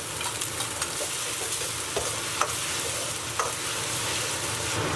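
Shredded pork stir-fried in a wok over low heat, a steady close sizzle with scraping stir strokes and occasional sharp clinks of the spatula against the metal.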